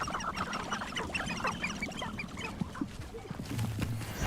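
Chickens in a fantasy castle video game cluck and chatter in quick, uneven bursts, a busy stream of small calls at moderate volume.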